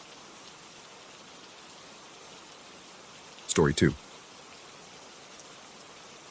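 Steady rain falls throughout as a soft, even hiss, with a brief spoken phrase over it partway through.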